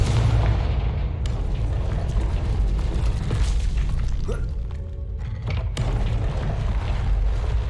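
A fiery Confringo spell blast in Hogwarts Legacy booms loudly over a dense, rumbling game soundscape, with sharp impact hits near the middle and end.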